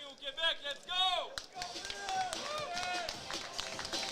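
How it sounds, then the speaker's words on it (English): Crowd at an amateur K1 kickboxing event in Québec bursts into loud, steady applause and cheers after a shouting announcer, sustained dense clapping through the end. "Une énorme main d'applaudissements."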